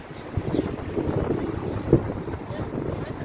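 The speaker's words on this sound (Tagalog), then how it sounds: "Ang hangin dito sa labas." Steady wind buffets the microphone outdoors, a constant low rumble with occasional gusts and no clear speech.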